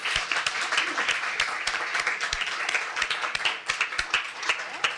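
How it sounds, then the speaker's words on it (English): Audience applause for students at a school board of education meeting, a steady patter of many hands clapping throughout, fairly close, with scattered sharper individual claps and a faint voice beneath. "Please join me in a round of applause for our students."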